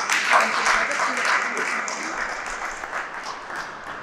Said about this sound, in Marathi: आपण एकदा सगळ्यांनी जोरदार टाळ्या